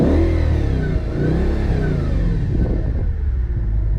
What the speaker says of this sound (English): Do a quick rev.